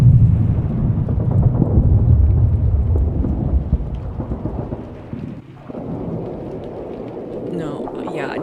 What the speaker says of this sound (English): World War I distant battle background noise